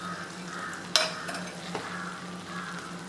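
Omelette pieces coated in masala sizzle softly in a pan for an omelette curry, a steady quiet frying hiss broken by a single sharp clink of utensil on pan and a few light stirring touches.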